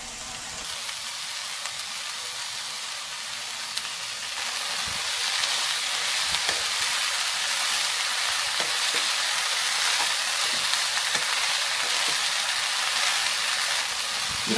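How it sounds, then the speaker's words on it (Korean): Minced onion and chili peppers stir-frying in a pan, a steady loud sizzle and hiss with occasional light scraping stirs, close and continuous, no talking. "이렇게 3, 4분 정도 볶다가 고추색이 진해지면"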